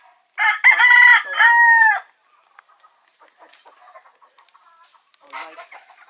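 A golden boy sweater gamefowl rooster crows loudly and close on a backyard game farm, one long drawn-out call, followed by faint scattered farm sounds and a short later squawk.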